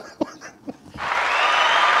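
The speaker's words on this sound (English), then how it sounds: "I think I have an applause button, too." A canned applause sound effect, triggered by a button during a podcast episode, bursts in as steady clapping after a second of faint vocal noises and keeps going to the end.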